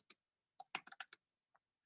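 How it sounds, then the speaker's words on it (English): Someone types a name on a computer keyboard: a short, faint run of about eight quick, light key clicks, close by, with near silence between them. "I can type in my name."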